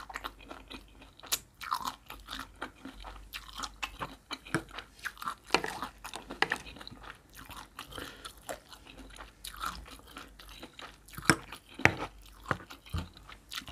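Someone eats a spicy Thai salad of boiled horseshoe crab eggs, with close, repeated crunchy bites and wet chewing sounds spread irregularly throughout, no talking.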